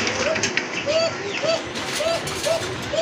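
A large female deshi pigeon coos in a steady repeating rhythm, about six soft coos spaced evenly over a constant background of chatter and bustle.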